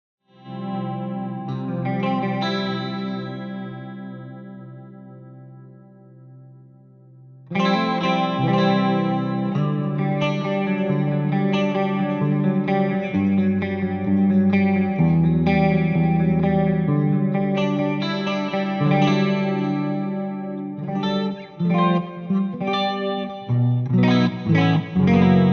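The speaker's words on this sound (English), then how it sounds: "Let's put a stereo chorus on to go with this, and maybe I'll select the JC120 model as well." Clean electric guitar through a NUX Mighty Plug headphone amp on a JC120 model with stereo chorus, an 80s-style clean tone; sustained chords ring out alone, a brief pause, then fuller strummed and picked passages.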